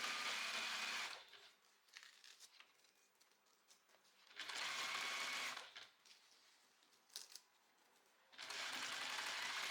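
A sewing machine stitches fabric for a zippered folder organizer, running in three long, steady bursts separated by quieter pauses.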